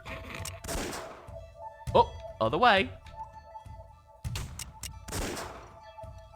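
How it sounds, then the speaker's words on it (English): Short gunshot bursts from a zoom setting in the Samurai Western video game, several sharp cracks spaced apart among game sounds, with a person talking over them. "Zoom does a gunshot noise and returns you to."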